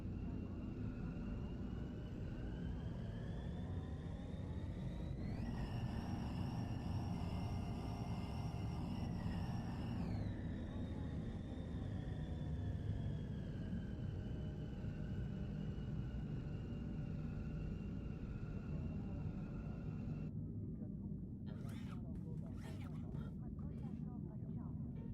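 Engine of a taxi aircraft in Star Wars: The Old Republic, a steady droning hum that rises in pitch midway and then settles, with clattering sounds near the end.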